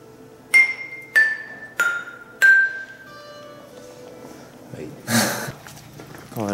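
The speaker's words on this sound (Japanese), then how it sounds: "瓦の音。" Ceramic roof tiles clink with four bright, ringing taps in quick succession, then a rougher scrape, with people talking around them, in Omihachiman, Japan.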